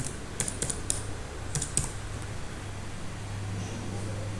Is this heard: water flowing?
no